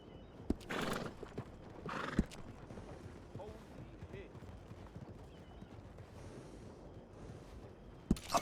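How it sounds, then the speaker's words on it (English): A horse near a stable gives two breathy whinnies early on, with faint hooves clip-clopping and a few sharp knocks in a quiet setting. "how's that horse doing?"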